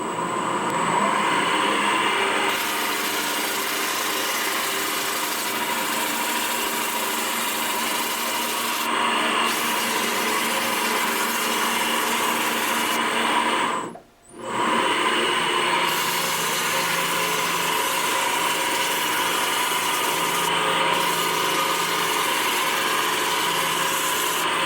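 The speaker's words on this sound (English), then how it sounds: "we'll start with 120 dry sanding, and that'll get it all evened out the best. Going to go ahead and bring it up to about 1100 RPM" Power sander running steadily at about 1100 RPM with 120-grit paper, dry-sanding a surface coating; a continuous loud rasping hum with one brief pause midway, then resuming.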